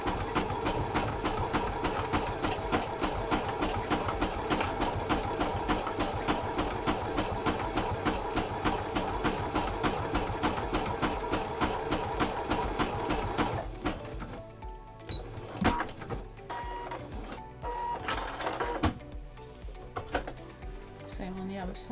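Sewing machine running a zigzag stitch along the edge of a fabric face mask, a rapid steady mechanical chatter for about fourteen seconds, then stopping into quieter handling noises and brief clicks.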